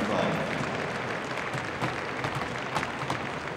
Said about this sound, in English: I ask you also to give them a warm applause, congratulating them on their achievements in Crufts 2005.